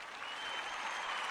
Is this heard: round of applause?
yes